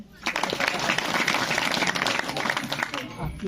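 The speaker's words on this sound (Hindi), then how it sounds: "तो आप लोग के लिए पहले तालियां बजा लो।" A village audience gathered at a late-night event breaks into dense, sustained applause, with voices mixed in, before it tapers off.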